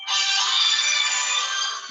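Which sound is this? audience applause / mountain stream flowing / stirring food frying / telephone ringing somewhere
telephone ringing somewhere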